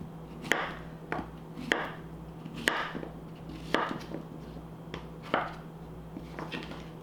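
A knife cutting microwaved Yukon Gold potatoes into pieces on a board, with about eight separate firm, close chops at an uneven, unhurried pace and no talking.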